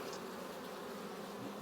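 Honey bees swarm over a hive's honey super with a dense, steady buzz, close and continuous, heard alone.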